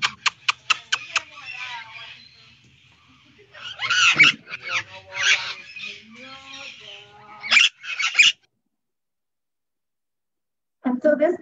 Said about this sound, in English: You guys can hear how a parrot sounds.